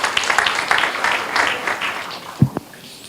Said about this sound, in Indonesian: tepuk tangan yang keras buat Tuhan.